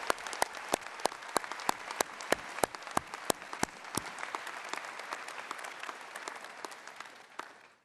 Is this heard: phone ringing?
no